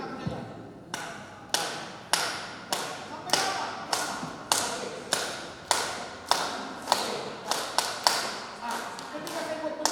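Rhythmic beat tapping during a teachers' practice session: a steady series of sharp taps or thumps, about one per second and slightly uneven, close and moderately loud, with a voice speaking softly underneath.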